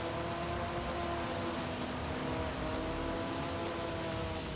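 Race cars, including a GT1 car, drone steadily at high revs in the racing game Gran Turismo 3, a constant engine roar with faint tire noise and no talking.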